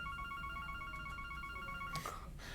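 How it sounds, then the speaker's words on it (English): A telephone rings with a repeating electronic trill, fairly faint under a steady background hiss, ending in a short burst of noise. "There goes the phone."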